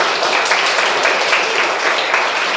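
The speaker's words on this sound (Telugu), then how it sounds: "క్లాప్ చేద్దాం ఒకసారి సార్‌కి." An audience applauds a teacher during an interview, dense steady clapping that fills the whole moment at a loud, even level with no talk over it.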